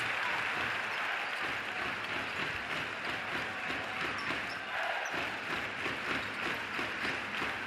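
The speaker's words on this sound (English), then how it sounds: "Prince Felipe crowd is rocking." A basketball arena crowd in Zaragoza roars steadily during a women's EuroLeague game, a loud, broad wash of cheering with scattered squeaks and thuds of play.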